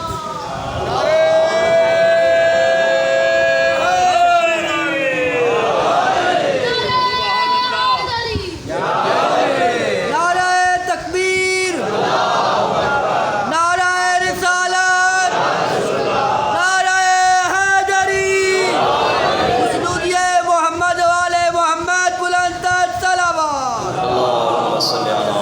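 At a Muharram majlis, a large crowd chants religious slogans in loud, rhythmic unison. Several bursts of chanting answer one another over about half a minute, with steady crowd noise between them.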